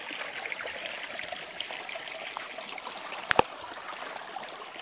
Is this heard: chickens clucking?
no